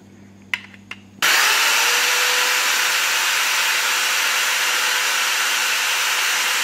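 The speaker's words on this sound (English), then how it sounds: "So I'll just drill two holes here and hang it." A few faint knocks, then a loud, steady high-pitched whirring of a power drill boring holes into a wall that runs continuously without pause.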